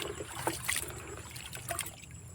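Muddy wild vegetables are rinsed by hand in water outdoors on a hillside, giving a close, continuous trickling and sloshing with small splashes, without talk.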